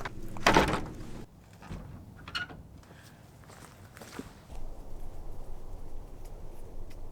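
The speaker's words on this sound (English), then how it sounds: "Door's working nicely." A wooden door on a remote hiking cabin swings open and shut, a loud near thump and creak up front followed by quieter knocks, footsteps and rustling in the room.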